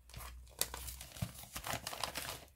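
A mailed paper envelope being torn open by hand, a soft, close run of crinkling and ripping paper with a few sharper tears, fairly quiet and with no talking.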